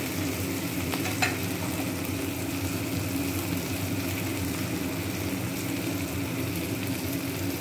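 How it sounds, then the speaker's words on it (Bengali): Ground spices such as chilli powder and turmeric sizzle and fry in hot oil while being stirred for a broccoli and potato curry, a steady close crackling hiss with one brief clink. "ওটা তেলের ভেতরে দিলে খুব ভালো গন্ধ আসে,"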